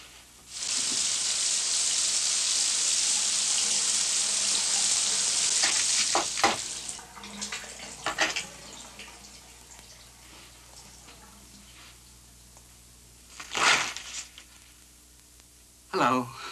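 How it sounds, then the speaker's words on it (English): A running shower gives a loud, steady hiss of spray for about six seconds, then cuts off, leaving quieter rustles, a few sharp knocks and voices talking. "I'm taking a shower, Ted."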